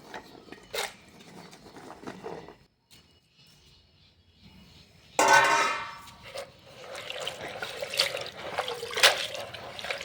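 Fresh cluster beans (guar) are swished and rinsed in a bucket of water, with sloshing splashes, drips and light clinks of a metal vessel that come and go, then a louder burst of stirring water partway through.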